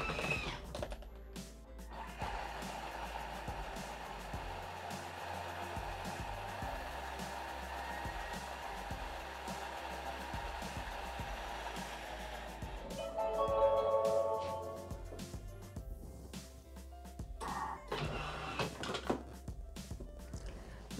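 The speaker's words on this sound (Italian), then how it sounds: "azioniamo il bimby per 50 secondi da velocità 7 a velocità 10" A Thermomix TM6 or TM5 blender runs steadily at high speed, blending ACE juice with a continuous whirring motor sound, then shifts in pitch and finishes with some clattering and faint handling noises.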